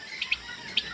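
Young chicks on a small poultry farm give three short, high chirps, faint and spaced apart, over a quiet background.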